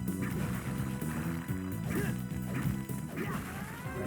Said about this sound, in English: Smashing some things.